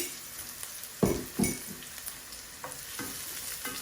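Garlic frying in a pan in a home kitchen sizzles steadily while a utensil stirs and scrapes against the pan in a few sharp, close strokes.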